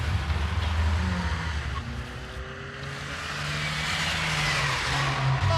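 Robbers' getaway car driving off after a shooting, a steady rumbling engine with broadband road noise that holds throughout and swells slightly toward the end, moderately distant.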